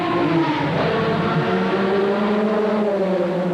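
A 1988 Le Mans race car's engine drones loud and close as the car returns to the pits, a steady high-pitched whine with shifting tones and no speech.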